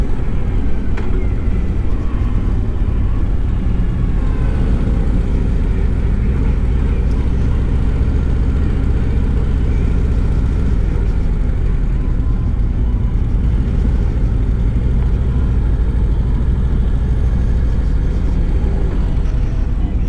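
A 2024 Harley-Davidson CVO motorcycle engine drones loud and steady while riding at lugging revs, with heavy low rumble and constant wind roar throughout.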